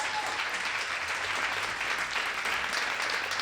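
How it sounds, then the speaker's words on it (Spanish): Steady audience clapping fills a literary talk as a writer is applauded, a modest crowd at moderate level, continuous with no speech over it. "la pueden aplaudir."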